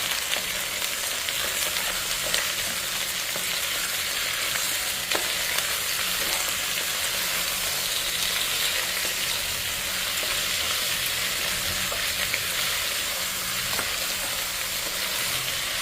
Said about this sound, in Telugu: ఇప్పుడు చికెన్ ఒకసారి బాగా మిక్స్ చేసేద్దాం.